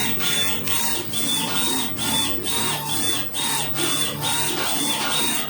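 A desktop UV printer printing a row of golf balls, its print head carriage sweeping back and forth in a steady repeating cycle of whirring passes, each ending in a brief pause, close and continuous.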